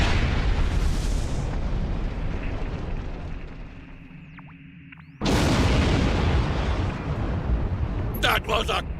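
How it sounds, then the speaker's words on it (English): A large explosion rolls out in the Star Trek Online space battle, a long roaring boom that fades before a second loud burst hits, followed by sharp crackling pops, all continuous and dense. "That was a glorious explosion!"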